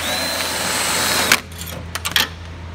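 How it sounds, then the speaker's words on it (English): Drill boring out spot welds on a Willys Jeep CJ3B steel body, a close steady whirring drone that cuts off partway, followed by a few sharp metallic clicks and clatters. "we're going through popping all the spot welds, drilling them out, and then kind of prying it off a little at a time."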